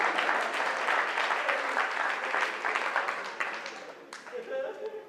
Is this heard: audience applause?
yes